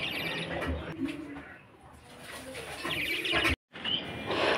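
Several small caged birds chirp and twitter continuously at moderate volume, with household background noise and a brief silent gap.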